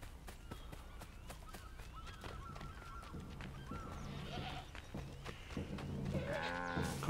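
A cow in Assassin's Creed 3 moos near the end, a rising drawn-out bovine call following a stretch of quieter in-game ambience with scattered clicks and movement.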